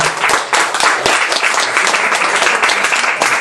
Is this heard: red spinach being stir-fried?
no